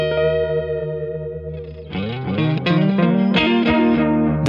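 Guitar played through a boutique PT2399 lo-fi tape delay pedal built to mimic old tape machines, sustained chord notes then a busier phrase with warm, dirty, warbling repeats trailing behind, loud and close with no talking.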